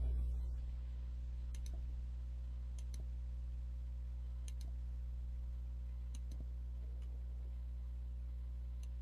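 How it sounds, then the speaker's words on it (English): A computer mouse's middle button clicks while embroidery digitizing software is in use: sparse, sharp, faint clicks spaced a second or two apart over a steady low electrical hum. "and I'm just middle clicking my mouse."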